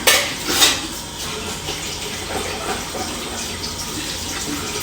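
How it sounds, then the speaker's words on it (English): A titanium mini stove being rinsed and scrubbed by hand under running water, with metallic clatter and clinks of the stove parts over a steady splash and trickle, loudest near the start. "So I'm just using my bare hands just to wash off all the main stuff"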